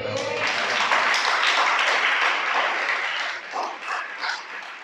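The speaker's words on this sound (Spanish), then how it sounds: "Dale un aplauso." A congregation at a Shabbat service breaks into loud, dense applause that swells early, then thins out and trails off into scattered claps toward the end.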